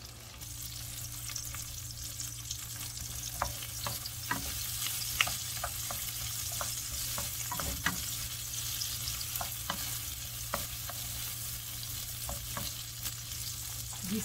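Onions sautéing in a pan give a continuous close sizzle with scattered sharp pops and spoon clicks, steady throughout with no voices.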